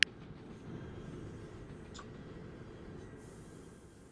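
A train in the railway-building video game Mashinky rolls along with a steady low rumble of wheels and carriages, a continuous mid-level drone with a faint squeal now and then.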